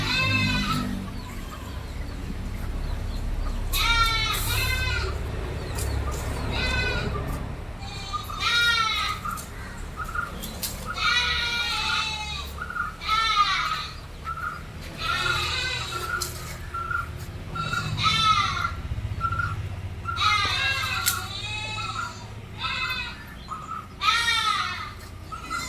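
Six cross-breed goat kids around two to three months old bleat repeatedly, several calls overlapping in irregular bursts at close range, with low farm background noise and a faint rooster-like call.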